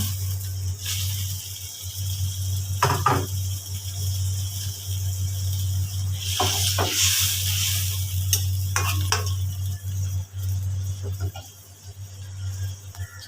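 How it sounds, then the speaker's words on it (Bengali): Fried fish pieces go into a simmering fish curry with potatoes and water, giving a soft sizzle and bursts of stirring and scraping over a steady low kitchen hum. "এবার ভেজে রাখা মাছগুলো দিয়ে দিব"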